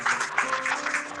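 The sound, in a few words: congregation applauding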